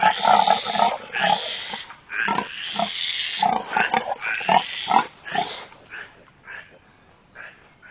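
A mother pig with piglets grunts and squeals loudly in a rapid series of harsh, close bursts that trail off into shorter grunts.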